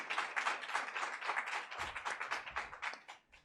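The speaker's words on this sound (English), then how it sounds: "the audience, please welcome her with applause" Quiet, rhythmic audience applause at a women's agrifood summit, many hands clapping in a fairly even pulse that stays soft and slightly distant, then tapers off near the end.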